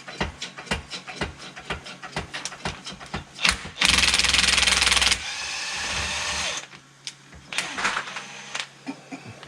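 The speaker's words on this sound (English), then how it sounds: "Use your perfectly good spring compressor." A power tool whirs in a loud, steady burst of about three seconds while running a spring compressor on a supercharged VW Beetle during a lift job, framed by sharp metallic clanks and taps of tools nearby.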